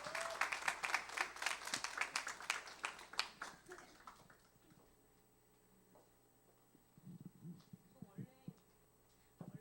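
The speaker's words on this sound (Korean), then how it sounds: "박수." Audience applause at a church mission camp forum, a burst of clapping over the first four seconds that fades out, followed by quieter room sounds and brief voices.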